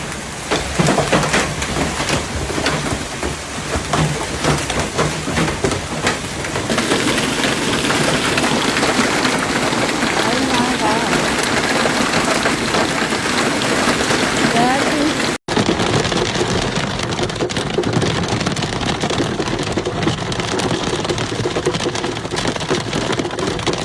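Ping-pong ball-sized hail storm pounding homes and cars in Fort Smith, Arkansas, a dense, steady roar of drumming impacts that continues without a break, broad and loud throughout.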